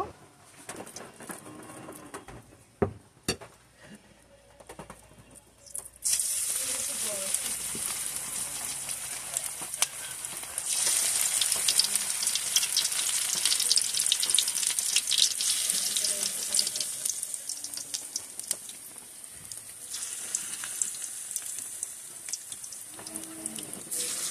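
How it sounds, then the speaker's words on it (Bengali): Jute-leaf pakoras frying in hot soybean oil in a pan: after a few quiet seconds with faint knocks, a loud, steady crackling sizzle starts and carries on with little change. "এখন পকোড়াগুলো ভেজে নিব"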